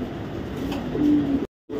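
A female black checker maxi racing pigeon coos softly and close, a low continuous murmur swelling toward the end before a brief silence and a final short resumption.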